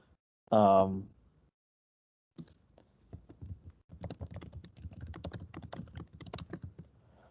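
Someone types on a computer keyboard, a soft run of quick, irregular key clicks that starts after a brief pause and continues steadily at close range in a quiet room, following a short vocal sound at the start.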